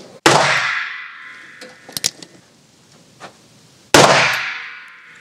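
Two sharp gunshots at an indoor shooting range, several seconds apart, each a loud close crack with a ringing decay, with faint clicks and handling noise between them.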